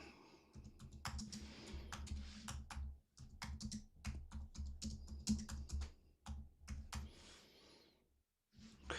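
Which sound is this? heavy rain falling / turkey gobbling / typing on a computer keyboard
typing on a computer keyboard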